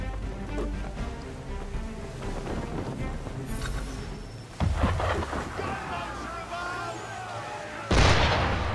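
Ship cannons fire in Assassin's Creed III: two deep, booming blasts several seconds apart rumble over a steady wash of rain, wind and water ambience.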